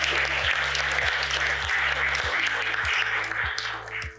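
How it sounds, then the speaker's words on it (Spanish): Conference audience breaking into applause, a dense sustained patter of many hands that holds steady and then begins to thin and fade toward the end, with a regular low thumping underneath. "Un aplauso también."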